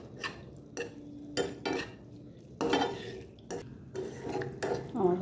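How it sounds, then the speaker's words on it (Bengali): Pasta being poured into a pan of white sauce and stirred, giving a run of close utensil scrapes and pan knocks in irregular bursts, with no talk. "পাস্তাটা ঢেলে দেবো। ভালো করে মিশিয়ে নেব।"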